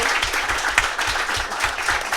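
An audience applauding authors at a talk on writing humor, a close, steady round of dense clapping lasting a couple of seconds with no clear speech.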